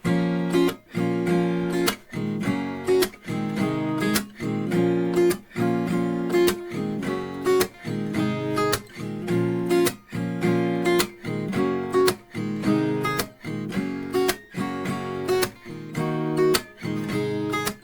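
A strummed acoustic guitar plays a bright, repeating Afrobeat chord progression with a steady, bouncy rhythm, looping several times without any voice.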